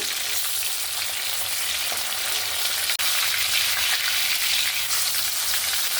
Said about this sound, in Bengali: এবার উল্টে নেব।